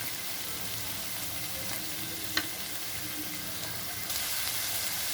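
Chopped sweet potato and vegetables frying in a pan for a healthy poha pulao, giving a continuous gentle sizzle with one sharp utensil tap and a slight rise in hiss near the end.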